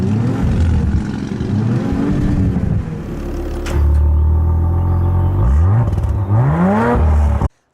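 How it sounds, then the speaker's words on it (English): An Audi RS exhaust in loud mode roars close and loud, revving up and down with rising and falling sweeps and a deep rumble, before cutting off abruptly at the end. "you can hear the exhaust valve getting louder already. Let's just hear this now in loud mode."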